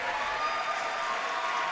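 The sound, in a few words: crowd applause for a basketball player leaving for the bench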